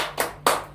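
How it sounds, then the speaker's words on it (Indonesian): Two separate bursts of hand clapping from an audience at a community meeting, brief and close, with a steady low hum underneath. "Untuk Ibu Galuh berikan tepuk hebat."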